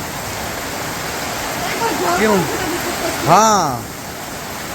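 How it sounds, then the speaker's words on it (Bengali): Steady rain falls outdoors in a village, a broad continuous hiss like a downpour, while a voice briefly speaks over it. "এক ঘন্টার মধ্যে বৃষ্টি নেমে গেল"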